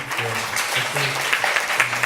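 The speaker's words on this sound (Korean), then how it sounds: "박수 좀 주시죠" A forum audience clapping at a debate, steady dense applause throughout with a low voice or hum faintly underneath.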